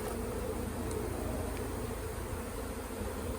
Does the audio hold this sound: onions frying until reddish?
no